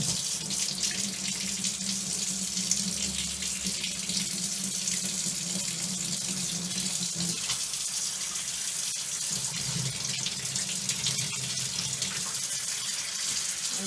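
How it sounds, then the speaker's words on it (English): Hot water pours from a tap into a sink plugged with a rubber stopper, a steady, close, continuous rush and splash that runs throughout with no talking. "And then hot tap water."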